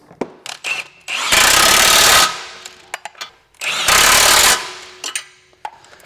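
Power tool, likely an impact wrench, tightening suspension bolts while fitting a 1.5 inch lift kit to a Kia Telluride: two loud sustained bursts of roughly a second each, separated by quieter clanks and handling noises.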